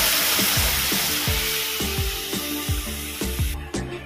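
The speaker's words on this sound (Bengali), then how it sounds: "এবার জল দিয়ে দেবো।" Water poured into a hot pan of crab malai curry, a loud continuous hissing rush with a rapid repeating rhythmic pulse that fades slightly toward the end, close up and with no talk.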